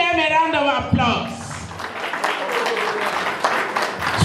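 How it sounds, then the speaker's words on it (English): A voice is heard briefly at the start, then an event audience breaks into applause, a dense clapping patter lasting a few seconds at moderate loudness. "Please give them a round of applause."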